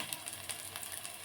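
Ginger garlic paste sizzles in hot oil for street-style egg rice, a brief, soft, even crackling hiss with no voices.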